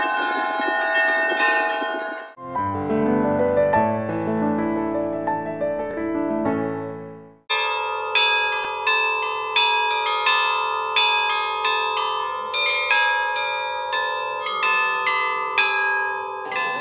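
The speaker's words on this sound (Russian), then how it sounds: "любой желающий мог позвонить в колокола" Church bells rung from the belfry of the Nizhny Novgorod Kremlin during Easter week, a loud, resonant peal of many bells struck in overlapping rhythmic strokes, shifting to a brighter, busier pattern partway through, with no voices.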